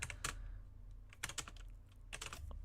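Quick bursts of typing on a computer keyboard during programming work, three short clusters of close, crisp keystrokes separated by brief pauses, with no one talking.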